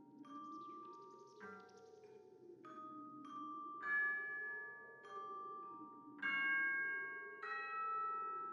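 Bells chime in the puzzle game Rusty Lake: Roots, a series of soft, distinct ringing strikes spaced roughly a second apart over a low wavering droning background, quiet and without talk.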